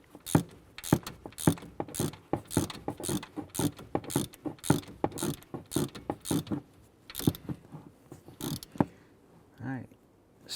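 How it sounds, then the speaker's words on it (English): A hand ratchet tightens the alternator bolts on a 2011-2018 Ram 1500, a rapid run of sharp close clicks in quick rhythmic strokes, slowing to a few last clicks before a pause. "go ahead and tighten down the two alternator bolts"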